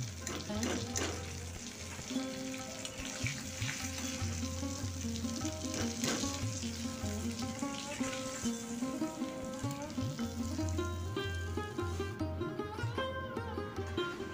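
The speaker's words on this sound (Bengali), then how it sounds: "সবগুলোই ভাজা হয়ে গেছে" Chicken kurkure pieces frying in hot oil, with a steady sizzle and bubbling under a low mains hum and soft clinks, continuous and close throughout.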